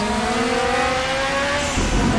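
A Group 5 racing car engine in the Raceroom video game, at Bathurst, revs high and loud, pitch climbing steadily through a gear, then shifting down, with a faint tire squeal near the end.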